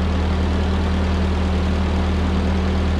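An old Ford tractor engine with a blown head gasket idles close by, a loud, steady low chugging drone with no talking.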